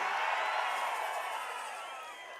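A large crowd at a political rally in Pudukkottai cheers and roars in a dense, continuous wash of voices that slowly fades.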